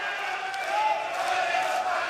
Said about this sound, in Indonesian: Ya, silakan berikan tepuk tangan untuk pasangan calon Anda.